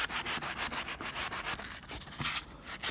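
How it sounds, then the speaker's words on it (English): Cracked window caulking is sanded by hand with 80 grit sandpaper, giving quick rhythmic back-and-forth rasping strokes, close and fairly quiet, with no talking. "I'm hitting it with some 80 grit sandpaper now."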